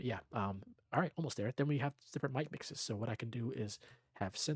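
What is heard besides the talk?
None of the usual background noises is heard.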